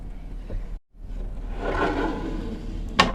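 The passenger-seat tabletop in a 2022 Entegra Ethos Li 20TL B-Class RV folds and stows with a short scraping slide, then ends in a sharp knock as it seats into place, heard close up in a quiet interior.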